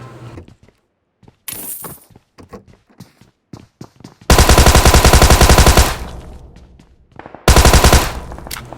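Automatic gunfire in the BGMI battle royale game: scattered single shots and footsteps give way to two long, loud sustained bursts of rapid fire, close and dominant.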